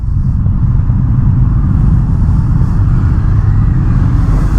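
Indian FTR1200 motorcycle in track mode, riding at full power: a loud, dense engine roar heard close up under heavy wind rumble, steady and unbroken throughout.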